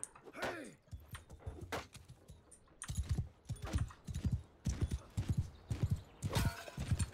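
Horse hooves clip-clopping in the video game Mount and Blade: Bannerlord, a quiet run of rhythmic thuds that comes in bursts, with no talk over it.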